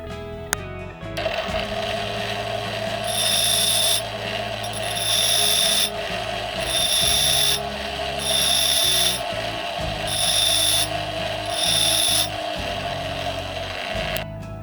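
Drill bit being sharpened on a grinder, a steady abrasive grinding drone with repeated bursts of harsher rasping contact as the bit is pressed and rotated against the wheel, close and continuous throughout.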